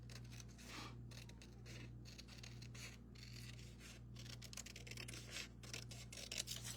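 Scissors snipping through paper for a DIY craft bird, a rapid series of close, faint crisp cuts with paper rustling in between over a quiet background hum.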